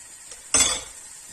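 A ladle of crêpe batter poured into a hot, lightly oiled crêpe pan, heard as one short, sudden hissing splash that fades quickly into quiet, with no voices.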